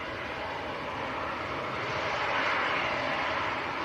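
An Air France airliner taxis out at Manchester Airport on a crosswind day, its jet engines giving a loud, steady, unbroken roar that swells slightly midway, with no one talking.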